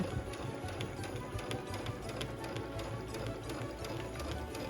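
Sewing machine stitching fabric forward and back along a stitch line for a holiday village church craft, producing a rapid, steady mechanical clatter that stays fairly faint and uniform with no talking.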